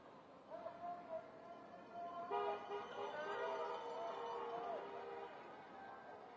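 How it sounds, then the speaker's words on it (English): Car horns honk at a protest honk-a-thon outside the U.S. Department of Education, several tonal blasts from distant vehicles overlapping, with one long sustained toot in the middle and crowd voices and chatter underneath. "this is a live honk-a-thon going on"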